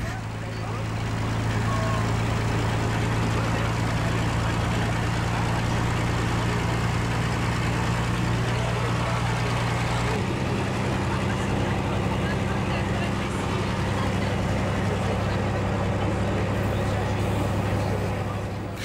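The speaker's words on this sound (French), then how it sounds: "avec ses changements de vitesse et surtout le ronflement du moteur" A Picasso diesel railcar on the Paris–Le Tréport line drones loudly and steadily from the driver's cab, a deep continuous engine rumble that shifts pitch partway through as the gear changes.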